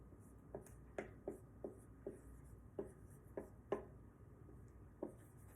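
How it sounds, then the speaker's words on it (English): Marker strokes on a classroom whiteboard: about ten short, soft squeaky taps spaced irregularly, close and fairly faint, with no talking. "So I'm going to write that on my whiteboard."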